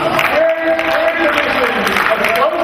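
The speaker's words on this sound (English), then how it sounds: "Give a round of applause for the party trolley." A conference audience applauds for a healthcare innovation team, scattered clapping spreading through the room under a presenter's voice.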